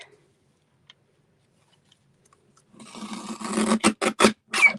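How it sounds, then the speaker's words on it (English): A paper trimmer slices through cardstock during card making. After near silence, a close rasping cut arrives as a short series of scraping strokes and ends in several distinct pulses. "I'm going to just take my trimmer."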